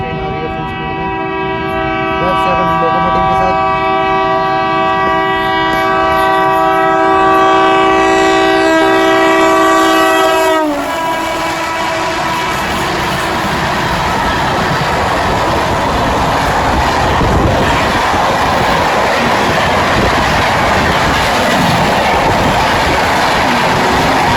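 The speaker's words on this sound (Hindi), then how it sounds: "लगता है कोई एक्सप्रेस ट्रेन या फिर कोई राजधानी आ रही है।" An express train rushes through a railway station, its long steady horn blaring loud and close for about ten seconds before cutting off, followed by the heavy roar and rattle of the passing coaches.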